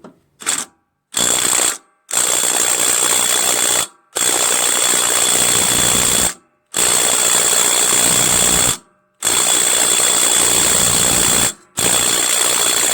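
A small DeWalt impact driver works on the Briggs 21HP opposed-twin engine of a Craftsman LT1000 lawn tractor, hammering in loud rapid bursts of several seconds, split by short silent pauses.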